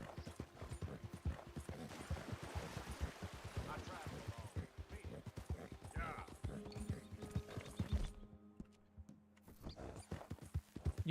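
Rhythmic clip-clop of horse hooves in a cowboy video game with an occasional whinny, layered with game-style mechanical sounds and a voice talking over them; a brief drop near the end.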